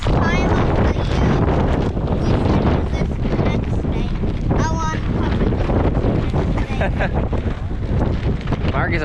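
Strong wind buffets a microphone on a farm where workers are covering a bunk, a continuous loud roar with gusty rumble while people talk over it.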